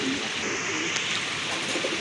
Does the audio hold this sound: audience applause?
no